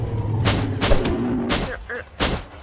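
Gunfire aimed at a rhino in the Animal Revolt Battle Simulator video game: several loud, close bursts of shots spaced across a couple of seconds, with a faint voice underneath.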